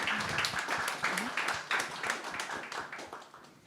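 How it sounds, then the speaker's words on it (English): Audience at a blockchain community meetup applauding, a dense patter of many claps that starts strong and gradually thins and fades out, with faint voices mixed in. "So please give these ladies a round of applause."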